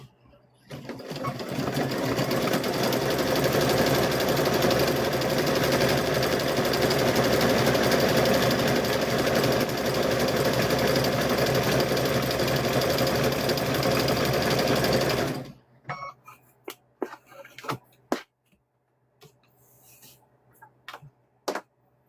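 A sewing machine runs steadily and close by for about fifteen seconds as it stitches a fabric-wrapped rope bowl, then stops, leaving scattered small clicks and handling noises.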